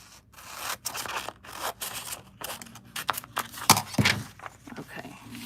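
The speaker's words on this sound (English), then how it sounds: "I think this is where I will cut it, right in this area. I'll cut it just below the fold mark." Scissors cutting through paper for a handmade junk journal, a run of short snipping and rustling strokes close by, with some soft handling noise between cuts.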